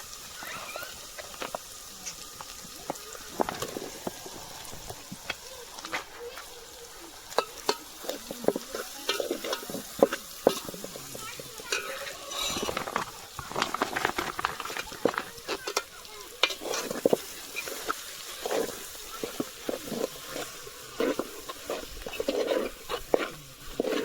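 Potato bhaji goes into a hot pan on a charcoal grill setup and gets stirred, giving close, uneven sizzling with repeated scraping and clattering strokes throughout.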